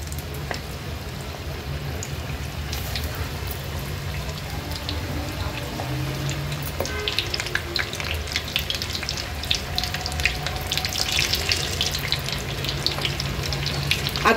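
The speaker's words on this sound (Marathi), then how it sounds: "प्रॉन्स तेलात टाकताना सुरुवातीला गॅसची फ्लेम मी हायवर ठेवली आहे" Prawns for crispy Koliwada-style frying drop into hot oil over a high gas flame, setting off a continuous loud sizzle and crackle that swells and grows busier partway through, with no talking.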